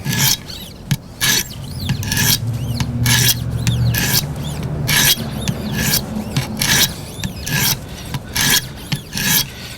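Knife blade drawn across 200-grit stones on a Wicked Edge WE130 sharpener, a series of close, sharp rasping strokes in an uneven rhythm, some in quick pairs, with a low hum beneath early on.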